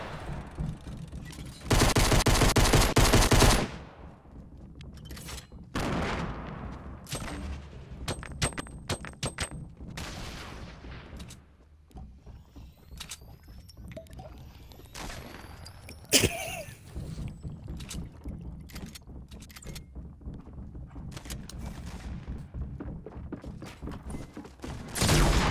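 A new shotgun fires in a video game, its blasts landing as separate sharp booms spread across a long stretch of clicks, footsteps and game effects, with a dense loud burst early on.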